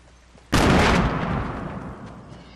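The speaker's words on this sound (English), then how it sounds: "Grenade over the hill!" A grenade goes off in the Missile Blade video game: one loud, sudden blast that opens with a sharp crack and then rolls off into a long rumbling decay lasting about two seconds, with no voices over it.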